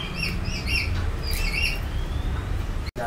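Magpie robins at a bird market chirp and whistle in short repeated bursts close by, over a low steady background murmur, with no talking.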